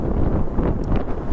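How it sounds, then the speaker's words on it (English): Wind gusts across an outdoor microphone, giving a loud, rumbling buffet that rises and falls without pause through the moment, with no clear speech. "Oh, it's windy."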